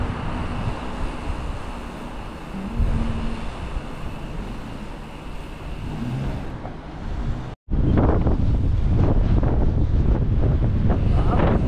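Strong wind buffets the microphone during a bicycle ride in Adliya, Bahrain, with a constant roar, briefly cutting out before returning even louder and gustier.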